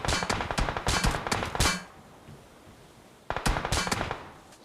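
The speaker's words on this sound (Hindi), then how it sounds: "सामने से ये बंदे स्मोक में लगातार फायर दे जा रहे थे।" Rapid bursts of automatic gunfire from a shooter video game, with enemies firing continuously through smoke, crackle in two dense volleys separated by a quieter pause.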